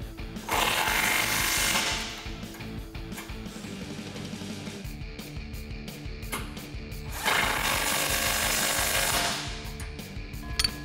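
A 17 mm socket drive tightens bolts on a Body Armor 4x4 Desert Series rear bumper for a 2016-2021 Toyota Tacoma, with two sustained close mechanical whirring bursts separated by quieter fiddling.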